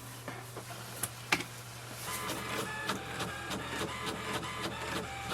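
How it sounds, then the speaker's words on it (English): An HP Envy Pro 6400 printer runs through a page, with a steady mechanical whir and a string of small ticks and clicks from the paper feed, fairly quiet and close. "wait for the printer to print the page"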